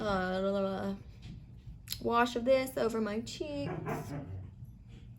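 Someone talks while a dog barks and whimpers in short bursts nearby, the yips overlapping her speech.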